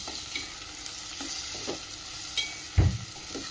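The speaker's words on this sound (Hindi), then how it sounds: "जैसे ही ये हल्के से सौटे हो जाए इसमें हमारी चॉप की हुई प्याज डाल देंगे और इसे थोड़ा सॉफ्ट होने देंगे।" Chopped onions sauté in a pan with curry leaves for restaurant-style dal tadka, a soft continuous sizzle with scattered light stirring scrapes and one heavier knock near the end.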